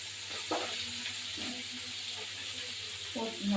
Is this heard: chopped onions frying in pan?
yes